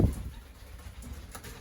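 Pigeons in a loft, heard as a quiet, low cooing and soft rustling with a brief louder burst at the very start, close by and otherwise subdued.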